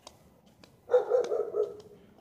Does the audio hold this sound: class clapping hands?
no